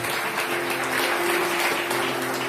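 A congregation applauds during a religious talk on inner healing and guilt, steady even clapping held at a constant level, with a faint hum underneath.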